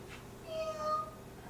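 Young child imitating a cat with a short, thin meow, a single faint rising-falling call in a quiet room.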